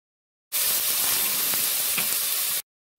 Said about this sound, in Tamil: இந்த எண்ணெயில் முதல்ல உருளைக்கிழங்கு பீஸ் இஞ்சி இதை கொஞ்சம் வதக்கிக்கலாம்.